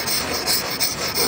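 Sandpaper rasps over old, darkened teak wood that is being stripped of its old teak oil, the steady scraping broken into quick, rhythmic strokes, close and loud.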